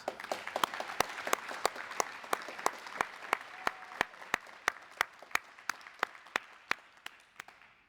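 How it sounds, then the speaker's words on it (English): Steady audience applause follows the national anthem at a military garrison change of responsibility ceremony, even continuous clapping with sharp individual claps standing out, fading slightly toward the end. "So please join me in a round of applause"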